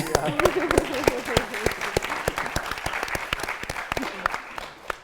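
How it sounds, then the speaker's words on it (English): Audience applause at a panel talk on news and online video, a room of people clapping steadily and fairly close, the sharp claps spread evenly across the whole stretch with speech murmuring beneath. "I actually want to start off with a little bit of applause for this group here"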